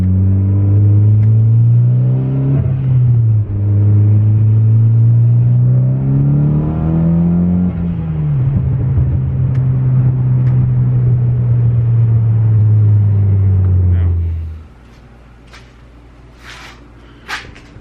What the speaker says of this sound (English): If I let go, it's a lot louder.